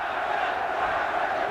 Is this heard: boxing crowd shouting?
yes